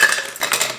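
Ice cubes tumble into a cocktail shaker while a brown sugar shaken espresso is being made: a brief, loud, bright clatter of cubes rattling against the container, with no voice.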